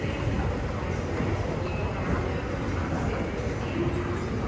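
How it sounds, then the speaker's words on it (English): A Schindler escalator runs at a shopping centre in Wolverhampton, giving a steady low mechanical rumble and hum that carries on unbroken, with a faint busy indoor background. "some escalators at the Mander centre of Wolverhampton"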